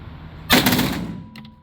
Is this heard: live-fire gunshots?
yes